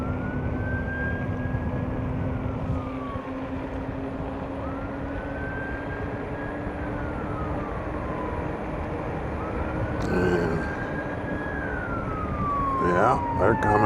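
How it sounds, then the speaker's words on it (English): A wailing emergency siren rises and falls in long sweeps over steady engine rumble, a few seconds per cycle, moderately distant and growing slightly louder. "Where the hell's the siren coming from?"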